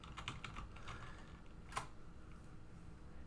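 Quiet typing on a computer keyboard while searching for keyboard settings in a Windows start menu: a few soft, scattered key clicks over faint room hiss.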